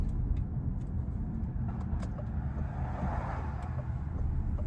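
A Citroën C3 Aircross with a 1.2-litre 82 hp engine passes another car, giving a steady low engine and road rumble with tyre hiss that holds level throughout, heard from inside the cabin with no talk.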